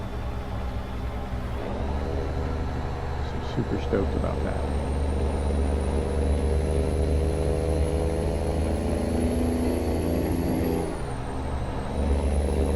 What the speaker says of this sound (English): I think this is definitely the best sound pack I've ever heard, and it makes this the best sounding truck I've ever driven